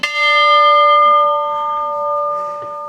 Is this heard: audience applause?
no